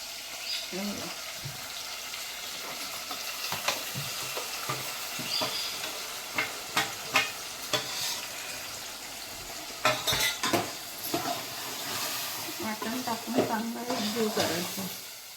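Ground masala paste drops into a sizzling Malvani-style crab curry of stream crabs and is stirred, spoon scraping and clinking against the pot in irregular bursts over a steady frying hiss, with voices talking in the background.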